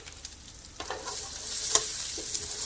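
Seared shrimp with onions being stirred in a pan, a soft steady sizzle with a few utensil scrapes and taps against the pan, building slightly louder, no voices.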